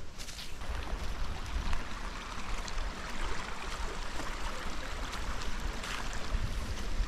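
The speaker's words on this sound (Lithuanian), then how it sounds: "Va, koks upelis." Steady broadband rush of a flowing stream where two rivers meet, continuous and fairly loud throughout, with no voices.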